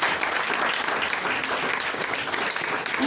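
A church congregation claps in sustained, dense applause for about three seconds, steady and fairly loud throughout.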